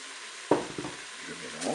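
Rice poured into a hot pot of a Cookeo multicooker, a sudden soft rattle and hiss followed by quiet sizzling and stirring, faint and close.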